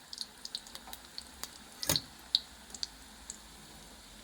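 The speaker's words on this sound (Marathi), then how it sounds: "त्याच्यामुळे व्यवस्थित छान असं भाजून घ्यायचं." Gulab jamun fry in hot oil with sparse, crisp sizzling pops and ticks scattered over a faint steady hiss, close and quiet.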